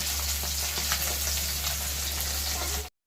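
Tengra fish, a scaleless catfish rubbed with raw oil, fries in a pan of hot oil with a steady, dense crackling sizzle that stays even throughout and cuts off abruptly at the end.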